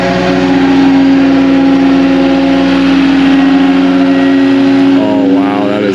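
A Cat 259D3 skid steer's diesel engine runs steadily and loudly up close with a droning tone, then shifts pitch near the end as it revs.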